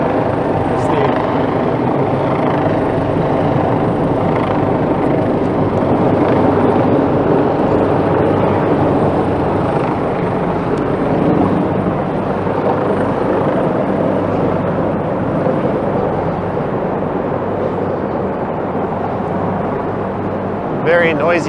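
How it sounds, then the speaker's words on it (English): A loud helicopter flies over downtown Toronto toward a hospital, a steady close rotor roar lasting throughout with a faint voice beneath it. "very noisy chopper making its way to St. Mike's"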